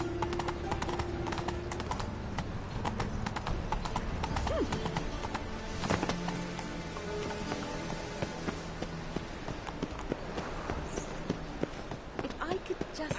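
Roach the horse trots in a video game, hooves clip-clopping in a brisk continuous rhythm, with an occasional snort, under game music and a man's speech.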